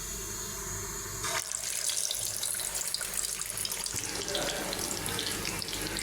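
Beef kebabs are dropped into hot soybean oil, and after a quiet start a dense, steady sizzle of frying bursts up and continues close and loud.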